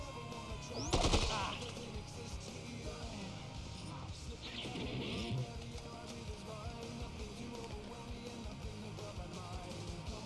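A short burst of gunfire aimed at the chef in the video game Dead Rising 2, a loud broadband volley near the start, followed by ongoing game noise and faint voices.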